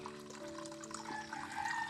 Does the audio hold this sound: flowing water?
yes